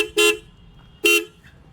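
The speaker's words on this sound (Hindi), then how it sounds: "तो मेरे हिसाब से यहाँ शायद डुअल हॉर्न दिए गए हैं।" Royal Enfield Continental GT 650 motorcycle with a dual horn setup sounds two short, loud honks about a second apart, each a brief bright blast close by.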